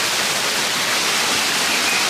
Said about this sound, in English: The rain picked up again